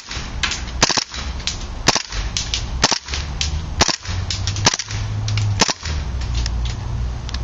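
A KWA M93R airsoft pistol firing three-round bursts during an accuracy test: sharp, loud snapping shots in quick clusters, several bursts spaced about a second apart over a steady background hiss.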